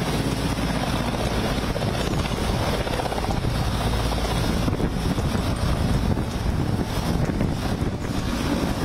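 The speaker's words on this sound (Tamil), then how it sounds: "டெல்லியில் G20 மாநாடு நடைபெறுவதை முன்னிட்டு ஹெலிகாப்டரில் பாதுகாப்பு ஒத்திகை." A helicopter flies over Delhi during a police commando security drill ahead of the G20 summit, its rotor roar continuous and loud with heavy wind buffeting the microphone throughout.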